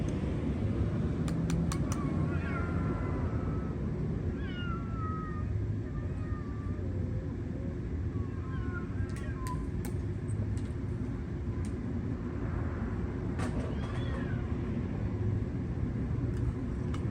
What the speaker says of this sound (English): Hey, no cat fighting.